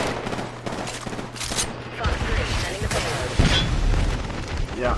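Rapid bursts of gunfire and booming impacts in a shooter video game, loud and dense, with a spoken voice mixed in over the firing.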